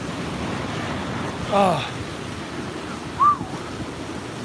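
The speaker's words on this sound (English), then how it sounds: "Yeah, big gust." Strong wind gusts roar during Typhoon Mangkhut in a steady, loud rush of outdoor noise, with a brief voice exclamation partway through and a short whistling tone near the end.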